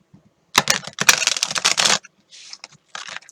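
A brand-new, stiff tarot card deck being shuffled in quick riffling bursts, loud and close, with a pause followed by two shorter bursts; no talking.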